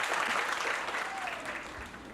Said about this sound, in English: Chote Nikhil indeed deserves another round of applause.